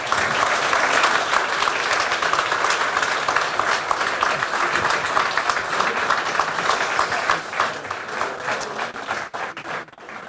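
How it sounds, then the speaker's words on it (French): Sustained, loud applause from an audience at a general assembly evening event in Namur, continuous dense clapping that thins slightly toward the end. "Ik wil een warm applaus vragen. Vos applaudissements pour le ministre David Clarenval"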